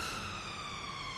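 Emergency vehicle siren passing outside a studio, a steady sustained wail heard at moderate volume through the walls.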